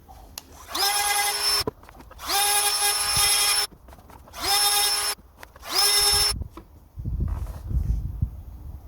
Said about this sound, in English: Definitely feels like it's sharpening up nicely.